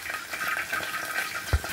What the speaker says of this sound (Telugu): అలాగే ఆవాలు, మినపప్పు వేసేసుకున్నానండి, పోపు దినుసులు. చూసారు కదా, వేగుతున్నాయి.